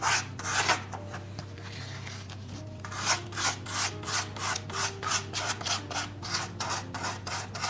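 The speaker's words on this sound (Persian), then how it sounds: "برای من سنباده دست آخر بود" Sandpaper is rubbed by hand over modern plaster moulding in rhythmic back-and-forth strokes, a close scratchy rasp repeating roughly twice per second after a brief quieter pause.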